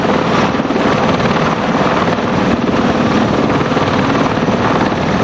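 The V-22 Osprey tiltrotor aircraft roars with a steady, dense rotor and engine wash, loud and continuous throughout with no voices.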